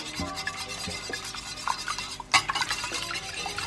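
A whisk beating in a bowl for French toast batter, quick close clinks and tapping against the bowl with a brief louder clatter midway, no speech.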